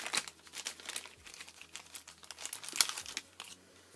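3D foam adhesive pads being handled and peeled for a birthday card, a run of close, quiet crinkling and small crackling ticks at an irregular rhythm.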